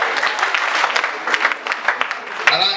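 Lively applause from a church congregation at a Bugesera gathering, many hands clapping unevenly with sharp individual claps standing out, voices mixed in beneath.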